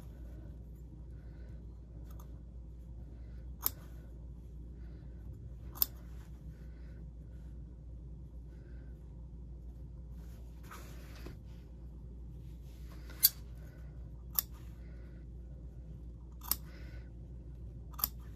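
Scissors snip slits into cotton lining fabric toward a stitch line, a few isolated crisp cuts spaced seconds apart, close by, over a quiet low hum.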